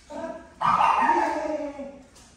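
A nine-month-old Yorkie puppy gives a single loud, drawn-out bark with a higher yip just before it, close to the listener and with no talking over it.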